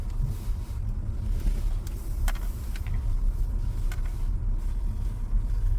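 A Range Rover creeps down an off-road hill under hill descent control, its engine a low steady rumble beneath wind noise and occasional crunching from the terrain.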